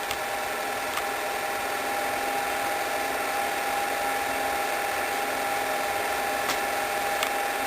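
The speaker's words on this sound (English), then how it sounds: "You hear the old projector chugging away in the background." Steady mechanical chugging and whirring of an old film projector drones on without a break, with a couple of faint clicks near the start and end.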